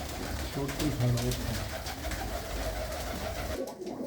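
A pigeon, a female, gives a soft, low cooing call nearby, repeated briefly, under a steady rumbling background with voices murmuring.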